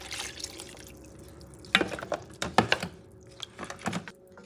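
Beef broth splashes and gurgles into a pot for braised short ribs, a run of uneven liquid pours and drips, fairly close, with no talking.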